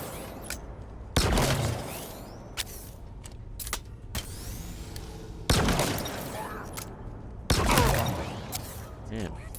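Gunshots in Halo Infinite, heard as a few loud, sharp blasts spaced several seconds apart, with smaller pops between them over a steady game background.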